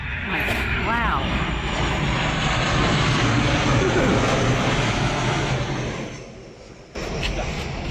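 Low-flying airplanes roar overhead, a loud, sustained engine rumble that swells, holds and then fades near the end, with someone talking during it.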